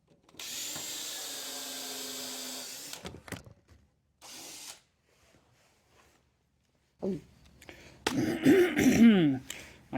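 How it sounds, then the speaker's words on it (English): A drill bores a grease hole into a handmade wooden bearing, giving a continuous whine for about two and a half seconds before stopping. Throat clearing, short knocks and a burst of talking follow. "I'm going to drill a hole for the grease and install the grease nipple."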